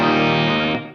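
A single sustained bass note rings with a gritty, amplified tone through an AC15 amp simulator with reverb, holding steady for most of a second before fading out.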